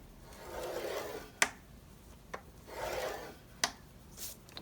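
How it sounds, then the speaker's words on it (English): A 12 by 12 sheet of cardstock scored on a score board makes two slow, rasping drag strokes. Each stroke ends in a sharp click, with a few lighter taps between them, heard close up. "We're going to use a 12 by 12 piece of cardstock, score at 5/8 of an inch,"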